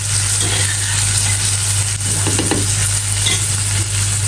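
Green chili, pounded garlic and ginger paste fry loudly in a hot pan for an egg curry, giving a dense, continuous sizzle with faint stirring scrapes and no talking.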